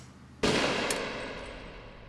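A single loud gunshot bursts out in the video game Avalon as a ghost is shot, then fades in a long reverberant decay, with no other sound besides a faint low hum beforehand.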